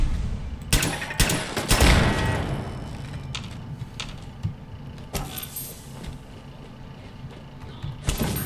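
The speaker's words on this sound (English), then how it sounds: "A turret." Turret gunfire in the video game Fallout London, sharp bursts of shots in irregular clusters, loudest early on, then scattered single reports and a final burst, with no talk.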